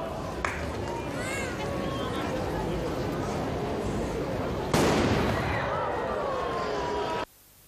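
Cannon salute fired at the opening of the Christmas park in Timișoara, alongside costumed period troops: a sharp, loud blast rings out over the steady noise of an outdoor crowd, with people talking and cheering around it.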